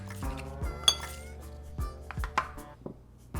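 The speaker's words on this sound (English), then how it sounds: "Then throw in your ice" Ice cubes dropped into a glass for an Old Fashioned cocktail, several close, bright clinks and knocks landing one after another in an irregular rhythm, alone without talk.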